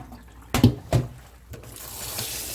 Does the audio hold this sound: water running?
yes